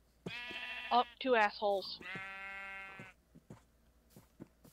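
Sheep in the Minecraft video game bleat several times in quick succession, loud and close, followed by a person talking briefly.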